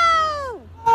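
A person imitates a cat, voicing a single drawn-out meow that glides downward before fading, then a short new vocal burst begins at the end.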